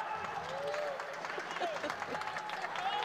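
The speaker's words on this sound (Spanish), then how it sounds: "Un aplauso para..." An audience at an international forum session applauding, a steady, moderately distant wash of clapping lasting throughout, with some voices murmuring underneath.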